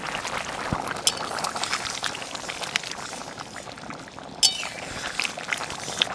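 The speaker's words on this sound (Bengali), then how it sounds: "এভাবে আমি আরও দশ মিনিট ফুটাবো" Fish curry with tomatoes bubbling in a pot in a village kitchen, a steady, close simmering texture running throughout, with a few light clinks of utensils and one brief louder knock near the middle.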